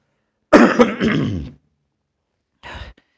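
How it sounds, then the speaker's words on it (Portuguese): A man clears his throat with a raspy burst lasting about a second, followed by a shorter, softer second throat clearing after a pause; close and fairly loud, no talk. "Desculpe aqui o pigarro"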